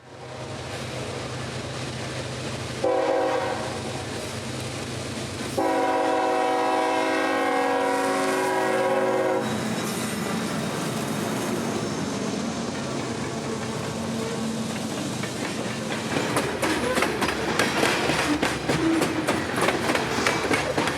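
A CSX grain train on a North Georgia rail line blasts its horn in long, loud tones, then its cars rumble and clatter steadily past at close range.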